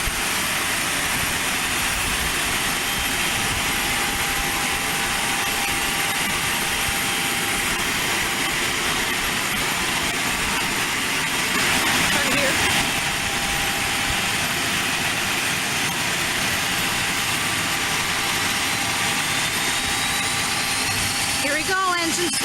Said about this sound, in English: Here we go, engine startup.